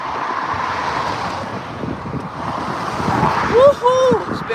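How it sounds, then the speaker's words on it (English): Steady wind rushing and buffeting a microphone outdoors, with a rising whistle or whoop near the end. "It's a bit windy around here."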